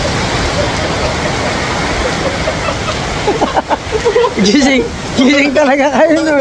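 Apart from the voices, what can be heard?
sudden heavy rain downpour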